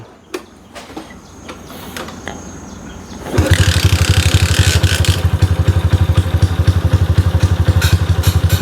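A 2021 Honda Wave small motorcycle in a repair shop: a few faint knocks and clatters, then the engine starts and idles loud and close with a fast, uneven chugging pulse.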